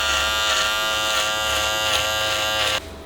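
An electric hair clipper cuts off a beard with a loud, steady, close buzz. The whine holds for nearly three seconds and then cuts off abruptly.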